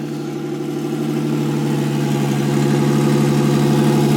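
A turbocharged Nissan 350Z idles at its first start-up, a steady, loud, close engine drone with a firm low hum that rises slightly in level across the clip. No one speaks over it.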